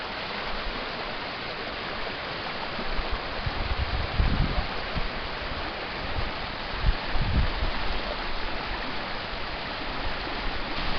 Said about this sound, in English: I'm just going to be quiet and listen to the water rushing for a little bit.